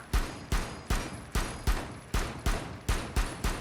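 Gunfire in Rainbow Six Siege: ten evenly spaced, sharp shots crack out at roughly a third of a second apart, each with a short decaying tail, loud and alone with no speech.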